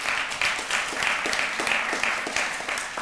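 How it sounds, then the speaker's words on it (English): Audience applause at a 60-Second Slam event thanking the judges, a moderate bed of clapping with a few sharper individual claps standing out, steady over a few seconds. "If we can applaud them again."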